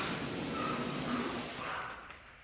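An airless paint sprayer hisses steadily and loudly while coating a door, then cuts off abruptly, leaving a fading tail of quieter hiss.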